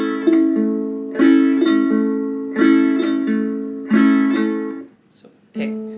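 Ukulele with all four strings picked by the index finger, rolling through repeated chord arpeggios in a steady rhythm, bright and close, each phrase ringing out, with a short pause before a final picked chord.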